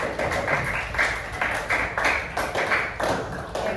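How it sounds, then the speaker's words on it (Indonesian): A class of students claps for a group of classmates, fairly loud hand claps in a regular pulsing rhythm, roughly two bursts per second, across the classroom. "Sekarang kita beri tepuk tangan untuk kelompok 2"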